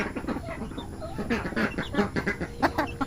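Newly hatched turkey poults cheep and peep in a dense, continuous chorus of short high calls, close and lively with no pauses.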